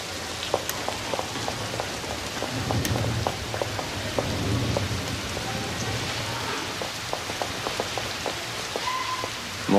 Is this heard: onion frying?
no